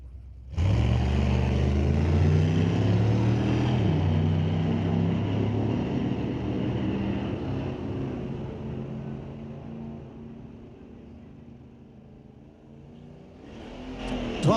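A street-legal drag car launches down the strip at Mission Raceway Park, a loud roaring acceleration that rises and then fades as it pulls away, with the engine note swelling again near the end.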